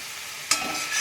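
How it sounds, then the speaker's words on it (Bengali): A pan of pointed gourd and poppy seed masala with tomato being sautéed, a sudden burst of stirring and sizzling kicking in halfway through after a steady low hiss, then continuing briskly to the end. "এবার আমি একটু কষিয়ে নেব।"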